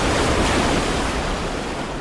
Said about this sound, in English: Waves hit Doolin Pier at roughly 10 to 20 miles per hour